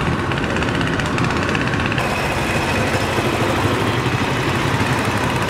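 A tuk-tuk engine idles on a busy street in Amritsar, a steady, dense mechanical rumble that runs without a break, fairly loud and close, with no talk over it.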